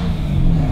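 A BMW E91 M3 fitted with a Valvetronic exhaust gives a brief, loud, close rev, a deep throaty burst with no talking.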